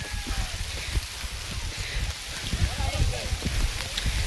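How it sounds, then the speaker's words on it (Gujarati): Rain falls on a trekking trail in the Girnar hills, a steady patter of drops mixed with gusty outdoor noise, with someone talking over it. "ફાઇનલી વરસાદ આવી ગયો છે"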